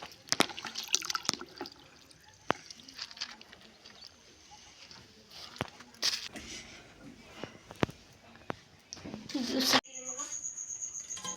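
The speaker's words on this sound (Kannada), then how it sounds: "ನೀರೇ ತುಂಬ್ಕೊಳ್ತೇನೆ ನೋಡ್ರಿ ಫ್ರೆಂಡ್ಸ್" Water poured into a container at a home, heard as irregular splashing and dripping with sharp clicks and knocks, close and moderately loud, with a brief steady high tone near the end.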